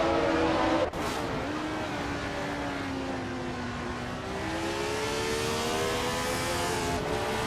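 Racing cars including a 1971 Tyrrell 002 drone loudly and steadily with rising and falling engine tones, a brief dip near the start, then continuous close engine noise with no talk.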